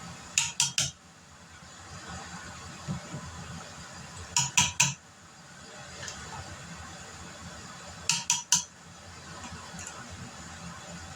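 Metal lids set onto glass jam jars in a home kitchen, three sharp clusters of quick clinks spaced several seconds apart, close and fairly quiet with faint background noise between.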